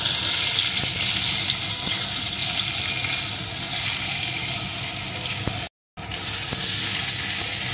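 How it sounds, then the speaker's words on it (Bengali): Gathi kochu taro pieces fry in mustard oil with a steady, loud, hissing sizzle. The bubbling continues unbroken except for a split-second dropout near the end. "এখন কাটি কচুগুলো ভালো করে সুন্দর করে ভেজে নেব।"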